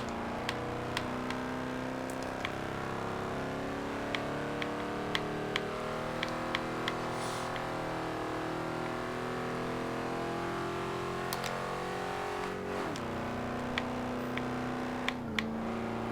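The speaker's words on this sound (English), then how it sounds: "I love the sound of that small block V8." A 1988 Chevrolet Monte Carlo SS with a small block V8 drones steadily in a racing game, its engine note shifting through gears with a brief dip and re-rev near the end, accompanied by faint ticking clicks.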